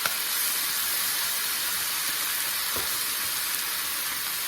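Pineapple chunks fry in a hot pan for ham and pineapple fried rice, giving a constant close sizzle and hiss with a faint stir partway through.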